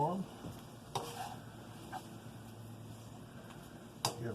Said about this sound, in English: Give the beans a stir.